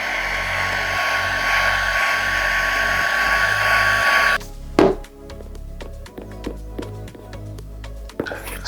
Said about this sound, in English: So now we use the heat gun to dry this up quickly.